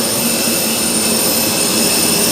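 A jet airplane engine roars steadily and loudly throughout, a constant dense whine and rush with no talk over it.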